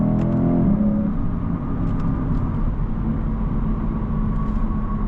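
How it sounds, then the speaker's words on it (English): A 2025 Lexus IS 500 F Sport's V8 engine drones steadily from inside the cabin while driving, a constant low rumble with a brief swell at the start, heard alone without talk. "I would never get tired of hearing that V8 every single day, driving it."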